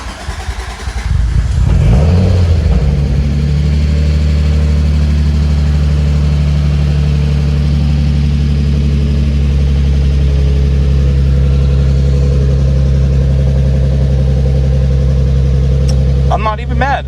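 An Acura Legend Coupe project car cranks and fires up, then settles into a steady, loud idle with a deep engine hum that keeps running close by; a voice speaks briefly near the start.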